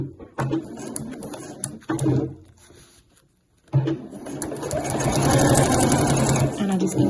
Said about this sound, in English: So I'll just continue sewing a little bit.